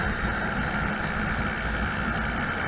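A 50cc Honda Zoomer motorbike cruising along a road after a repair, its small engine humming steadily with a constant buzzy drone and road rumble, no pauses or talk.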